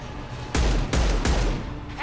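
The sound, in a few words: gunfire in the video game Mass Effect 2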